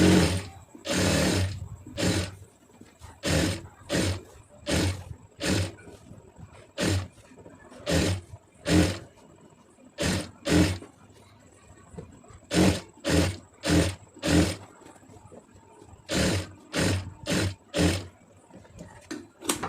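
Sewing machine stitching around the neckline of a plain blouse, running in about twenty short separate bursts of fast whirring with brief pauses between, close and steady, with no talking.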